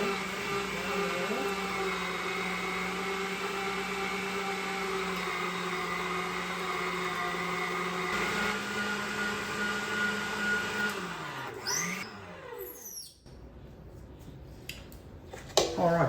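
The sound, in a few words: meat grinder grinding chunks of wild turkey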